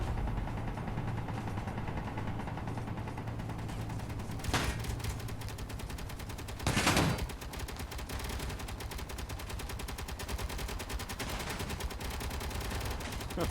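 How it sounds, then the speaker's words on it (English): Rapid gunfire from turrets in the Space Engineers video game rattles continuously in dense, fast bursts, with a couple of louder blasts standing out against the steady stream of shots. "Oh man, they're shooting their own place up hard."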